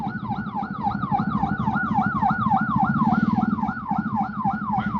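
An ambulance siren wails in a rapid, regular up-and-down cycle, loud and close throughout with a low vehicle rumble underneath and no talk.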